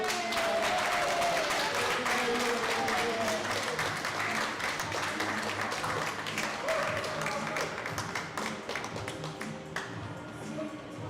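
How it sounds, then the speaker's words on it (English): Audience applause at a college creative and digital industries showcase, a dense wash of many clapping hands that stays steady for most of the stretch before thinning slightly toward the end, with faint voices mixed in. "So another round of applause."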